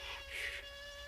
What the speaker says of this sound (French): je déteste les moustiques